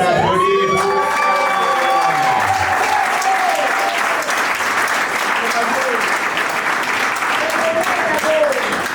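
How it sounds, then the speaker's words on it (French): Wedding guests at a civil ceremony in a town hall break into loud, sustained applause with cheering and whoops, the clapping dense and steady throughout while voices call out over it. "On applaudit."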